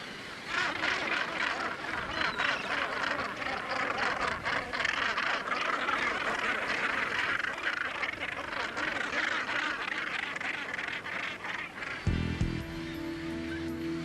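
Dense, continuous calling from a large gannet colony of over 5,000 nesting pairs atop a rock column on Bird Rock, a steady harsh chorus of many birds at once throughout, with a low tonal drone entering near the end.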